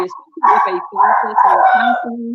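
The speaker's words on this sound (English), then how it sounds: "The dog want to get in on the conversation." A dog barks and yips somewhere in the background while close conversation carries on over it.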